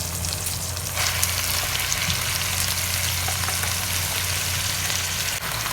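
Callaloo leaves are dropped into a pot of onion frying in oil, and the sizzle jumps louder at the moment they land, then continues as a dense, close, steady hiss and crackle.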